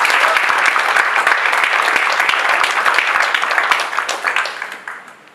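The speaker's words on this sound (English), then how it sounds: "I think she deserves another round of applause" An audience at a Bharatanatyam arangetram dance recital applauds for a young speaker, dense loud clapping filling the hall for about four seconds before tapering off.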